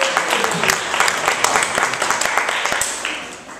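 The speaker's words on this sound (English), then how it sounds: "I want everybody to give a big round of applause for California being our new home." Audience applause in a small performance venue, a crowd clapping with distinct individual claps and some cheering, tapering off toward the end.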